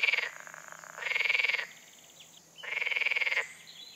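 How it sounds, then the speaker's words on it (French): Three loud, rattling croaks from a green frog in Paris, each a rapid pulsed burst under a second long, separated by short pauses. "Aujourd'hui, la grenouille verte."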